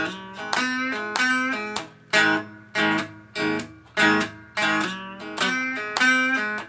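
A distorted electric guitar plays a riff slowly, with strummed chords separated by brief gaps in a steady rhythm, loud and close.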